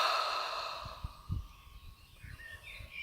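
A person yawns during a yoga stretch while lying on a mat, letting out one long breathy exhale that fades. Soft breaths and faint rustles follow.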